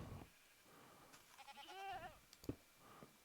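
Quiet Minecraft goats bleat in a few wavering, nasal calls with a short thump between them, faint and close in a hardcore vanilla game.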